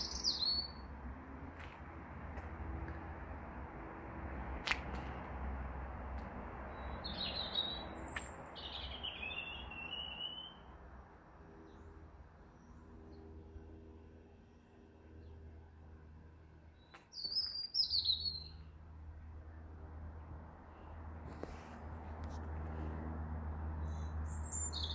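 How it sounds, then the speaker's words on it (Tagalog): Birds, including a robin, chirp and sing in scattered short calls over a steady low outdoor hum, several distinct bursts spread across the quiet background. "ang awit ng ibon? Ang ganda pakinggan."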